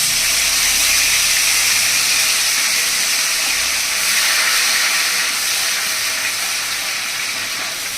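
Tomato paste sizzling in a hot oiled pan with slit green chillies for a Bengali pabda fish curry, a loud steady close-up hiss that carries on without a break and fades slightly toward the end.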